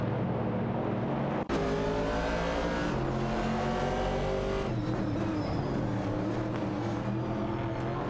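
Ford Falcon and Ford Mustang Boss racing engines from a racing video game, roaring loud and steady with layered harmonic whine and shifting pitch as the cars battle side by side.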